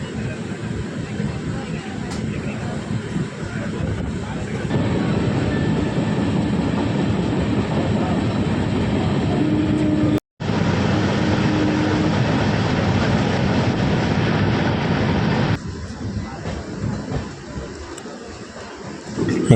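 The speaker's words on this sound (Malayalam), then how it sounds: "KSR ബാംഗ്ലൂർ വന്ദേ ഭാരതോടെ ലക്കിടി സ്റ്റേഷനിൽ വെച്ച് കണ്ടുമുട്ടിയിരിക്കുകയാണ്, ക്രോസിങ് നടത്തിയിരിക്കുകയാണ്" A Vande Bharat Express, the KSR Bengaluru–Ernakulam service, passes during a crossing at Lakkidi station with a loud, sustained rail rumble and wheel clatter that drops out briefly midway and then fades toward the end.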